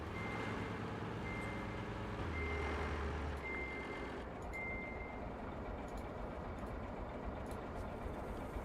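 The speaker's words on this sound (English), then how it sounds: "I just need to turn my truck around." A truck reverses in the video game Roadcraft, its backup alarm beeping steadily at a regular pace over a continuous loud engine rumble that deepens partway through.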